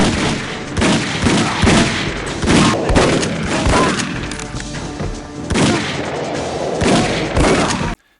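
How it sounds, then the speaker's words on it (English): Gunfire in The World Is Not Enough on the Nintendo 64, a dense string of loud shots and booming impacts fired in rapid, irregular bursts, heard up close without speech before it cuts off abruptly. "The shooting is smooth and satisfying with 20 plus guns at your disposal."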